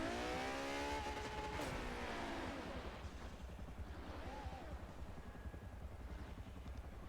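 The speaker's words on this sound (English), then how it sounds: "The revving of the motor" Race car engine revving and roaring in a Forza Spec Racing Series online race, a loud sustained motor drone with a rising rev sweep early on, continuing steadily throughout.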